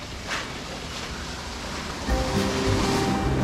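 A waterfall in the forests of Jujuy, Argentina, pours with a steady, full roar of rushing water, loud and close throughout with no talk.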